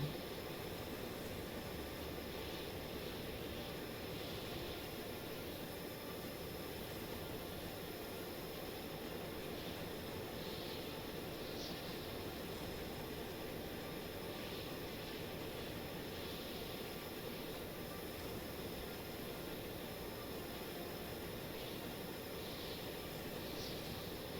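Aircraft engine in flight in the video game Stormworks, a steady, even broadband drone with constant roaring noise and no variation, heard alone throughout.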